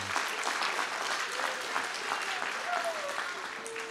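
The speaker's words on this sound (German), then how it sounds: "Den Beifall, kommt, den Beifall," Applause for a ski jumper at a youth sports event in Oberwiesenthal, steady clapping that runs throughout, with voices talking over it and a faint whistle-like tone near the end.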